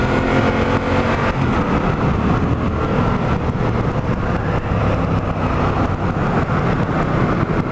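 A motorbike ridden through corners, its engine droning steadily and loudly up close with heavy wind rush throughout, no voices heard.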